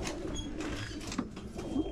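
Racing pigeons cooing in their loft: soft, low, repeated coos close by over a steady background murmur.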